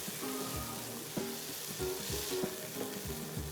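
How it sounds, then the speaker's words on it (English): Minced chicken sizzling in a pan with garlic and onions, a steady frying hiss broken by regular knocks and scrapes of a utensil stirring, with no voices. "So while our chicken is cooking, I'm going to put in the garlic and the onions that we cooked earlier."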